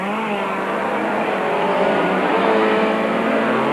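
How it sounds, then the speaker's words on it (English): A race car with a huge V8 Chevy engine roars loudly and steadily at close range in a 1997 Super Series circuit race, its engine note holding and rising slightly with no talk. "Draper uses the power of that huge V8 Chevy engine to his full advantage."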